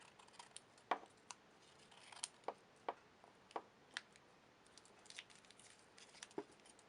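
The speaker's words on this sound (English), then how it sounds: "I'm going to use my scissors to trim it." Scissors trimming the edges of wrapping paper on a folded paper cube, giving a series of faint, crisp snips and ticks spaced irregularly, quiet and close with no talking.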